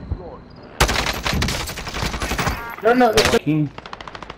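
Rapid bursts of automatic gunfire from an enemy in a video game crackle loudly in clustered volleys, with a few electronic tones and brief chirps near the end.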